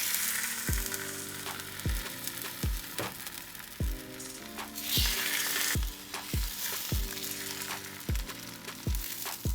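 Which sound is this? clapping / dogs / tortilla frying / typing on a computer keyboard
tortilla frying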